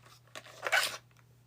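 Scissors snipping during a smart-garden kit unboxing, a single short crisp cut heard close and fairly quiet over a steady low hum.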